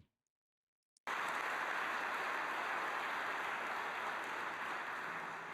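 A steady wash of audience applause starts abruptly after a moment of silence and continues evenly, as a dense, sustained clapping from a crowd.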